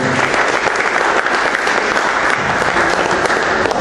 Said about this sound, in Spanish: Estaría que le diéramos un aplauso al maestro.